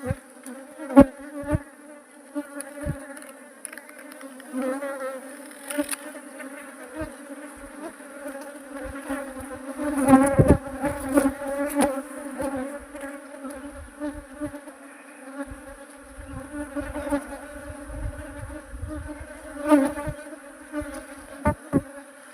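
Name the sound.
swarm of honeybees buzzing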